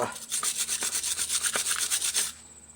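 Rapid back-and-forth scrubbing on a rusty brake part from a 2010 Kia Soul front brake job, about a dozen quick rasping strokes in a steady rhythm, close and fairly loud, stopping sharply near the end.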